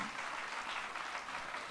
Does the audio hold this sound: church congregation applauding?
yes